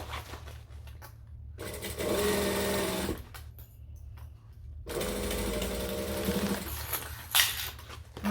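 A sewing machine stitching around the gusset of a book bag backpack, two long bursts of fast, steady whirring close by, separated by short pauses and fabric handling.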